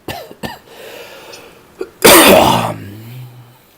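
A close, loud cough bursts out after a couple of short throat-clearing sounds, trailing into a raspy breath.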